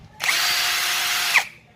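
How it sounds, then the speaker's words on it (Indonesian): A Nagawa NCB22K cordless drill bores into wood with one loud, close whine lasting over a second, then spins down sharply, with no voices over it. "Jadi saya rasa cukup bagus lah untuk kualitas ngebor tenaganya saat pengeboran kayu, sangat powerful ya"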